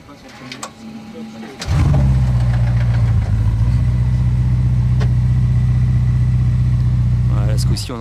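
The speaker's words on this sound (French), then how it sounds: "on a entendu le V8, discret quand même" A Ferrari V8 turns over and settles into a steady, deep idle that carries on evenly for several seconds, fairly close and loud, with some talk and movement noise before it starts.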